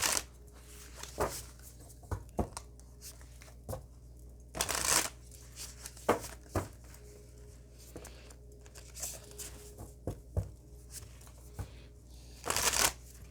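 Oracle cards from the This Might Hurt deck being shuffled by hand, close and crisp, in repeated papery riffling bursts separated by short quiet gaps, with no talk.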